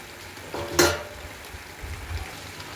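Mixed vegetables with spices being stirred in a pan, a soft scrape and a brief clink of a utensil against the pan over a faint low background, with no talking.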